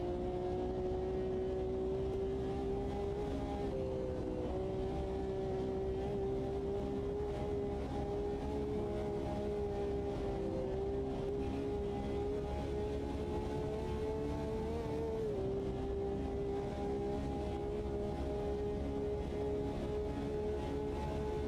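An Audi TT race car in a racing video game, driven at Gelleråsen, its engine droning steadily at a near-constant pitch with small dips and rises in revs, continuous and without talk.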